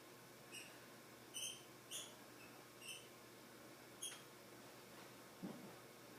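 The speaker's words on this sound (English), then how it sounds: "Please excuse the squeak toys in the background." Squeaky toys chirp faintly in the background of a home physical-therapy session, six short high squeaks scattered at irregular intervals over a quiet room.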